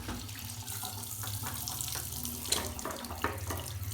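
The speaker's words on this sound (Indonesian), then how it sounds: "Pertama kita akan membuka keran terlebih dahulu." Water runs steadily from an opened tap into a sink before handwashing, a continuous splashing stream with a few louder drips and clinks, close and clear, with no talking.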